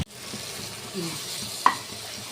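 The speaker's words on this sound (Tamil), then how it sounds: "உப்பு கொஞ்சம் போட்டு நல்லா கிளறி விடணும்." Vegetable biryani with salt sizzles and fries in a pot as a utensil stirs it, a steady crackle with a sharp metallic clink against the pot near the end.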